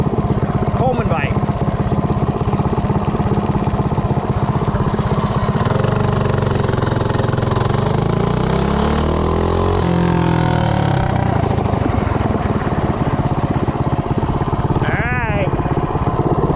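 Coleman CC100X minibike with a Predator 212 engine and a 12-tooth clutch accelerating from 0 to 30, its engine loud and close throughout, rising in pitch with a sweep in the middle and another near the end.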